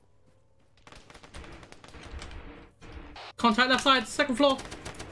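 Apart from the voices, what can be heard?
gunfire from the video game Arma 3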